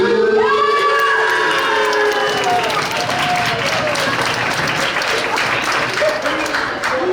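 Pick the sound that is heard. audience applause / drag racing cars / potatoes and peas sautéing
audience applause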